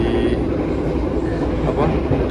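Steady rumble and rolling noise inside a moving stainless steel new generation train on the long Jakarta–Banyuwangi run, a constant close interior drone with faint clatter throughout.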